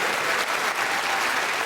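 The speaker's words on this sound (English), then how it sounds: "Why are you applauding?" A studio audience claps in steady, dense applause throughout, loud and close, with no gaps.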